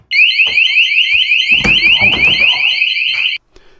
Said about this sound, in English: these are the window and door alarms by METAK